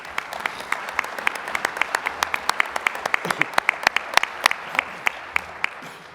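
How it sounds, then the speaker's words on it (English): At the 2023 CBTU Conference, a conference audience gives a round of applause. The claps are crisp and individual rather than a dense roar, keeping a steady rhythm at a moderate level. "Give yourself a round of applause."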